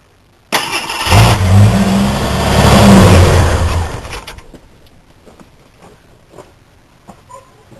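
An engine primed with starter fluid catches abruptly and revs loudly for a few seconds, then cuts out, leaving quiet background with faint distant birds.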